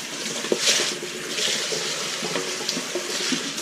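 Water splashes and rinses orchid potting substrate, a Miltoniopsis mix, through a colander between bowls, a steady broadband running-water wash with small irregular splashes and drips throughout, close up, with no talking.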